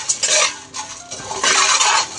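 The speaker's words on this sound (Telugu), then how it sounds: "నెక్స్ట్ ఇదే గిన్నెలో మురమురాలను కూడా వేసుకొని డ్రై రోస్ట్ చేసుకోవాలి." Puffed rice is dry roasted on medium flame and stirred in a pot, giving close, loud scraping and rustling bursts of a spoon against the metal, in short uneven strokes.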